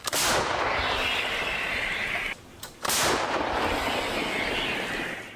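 Two loud, close blasts of artillery fire, each followed by a long roaring rumble, with a short lull between them.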